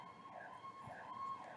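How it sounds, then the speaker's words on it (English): An ambulance siren outside wails in a steady, faint, rising-and-falling tone, heard from a distance through the walls. "sorry, there's an ambulance outside"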